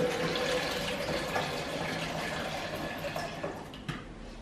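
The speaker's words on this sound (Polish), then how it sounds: "Tu muszę przefiltrować więcej wody." Steady running water pours and splashes continuously through a filter while making homemade lemonade, fairly close, with a brief clink near the end and no voices.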